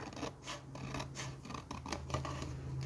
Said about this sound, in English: I have a little bit of overhang here, so I will just carefully cut that down